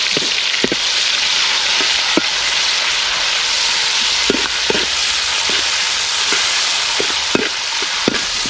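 Tomatoes fry in a pan for kappa biriyani, giving a steady, loud sizzle throughout with scattered sharp crackles and pops, and nobody talks.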